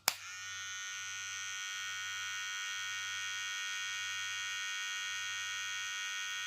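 A VGR electric hair clipper motor hums steadily after a sharp switch-on click, its low buzz pulsing slightly unevenly, running unstably.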